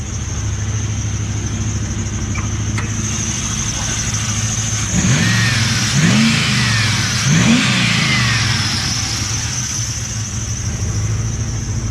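LS1 V8 swapped into a Nissan GU Patrol running steadily at idle nearby, with a couple of short throttle blips raising the revs midway before settling back to a rumbling idle.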